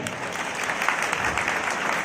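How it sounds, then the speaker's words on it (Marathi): An audience at an academy felicitation ceremony for successful students claps for a dignitary on stage, a short, steady burst of applause from a seated crowd. "आपण ही एक जोरदार टाळी द्या द्या जोरदार टाळी"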